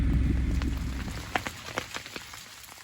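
Steady rain patters on a tent during a motorcycle rally trip, a dense hiss with scattered sharper drops hitting the fabric close by, heard alone.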